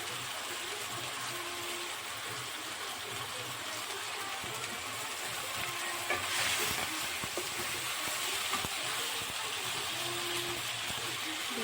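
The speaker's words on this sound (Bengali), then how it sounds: "কাঁচা লঙ্কা দিয়ে ভালো করে মশলাটা কষিয়ে নেব" Masala with green chilies frying in a pan for a Bengali lau chingri dish, a steady close sizzle and hiss with occasional scraping and stirring sounds.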